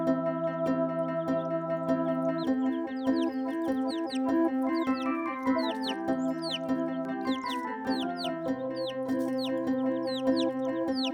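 A broody mother hen clucks steadily with her chicks, while thin high peeps flutter above in a continuous, busy chorus and a sustained tonal drone runs underneath.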